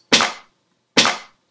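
Two identical sharp hits, each a snare and clap layered with a slight offset on an MPC drum pad, bright and snappy with short decay, spaced under a second apart, with no talking.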